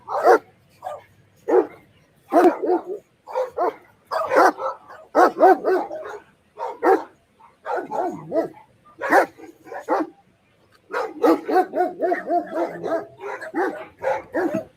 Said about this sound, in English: Notice how right away these dogs are alerting right away.